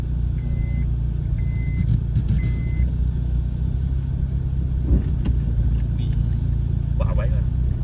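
A car engine labours in low gear up a steep road, a steady close rumbling drone heard from inside the vehicle while excited voices talk over it.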